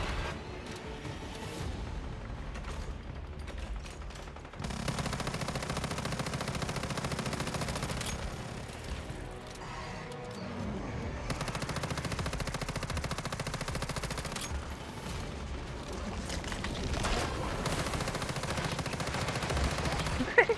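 Rapid automatic gunfire from Once Human, aimed at a boss's feet during a hard boss fight, rattles in long dense bursts with brief pauses, loud and continuous for most of the stretch, with a voice faintly underneath.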